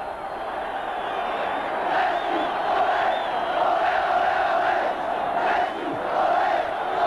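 A rowdy football crowd in the stands of a Bulgarian stadium during a 1984/85 European Cup match against Stuttgart just after the equaliser, a steady roar of shouting and chanting that swells and ebbs slightly throughout.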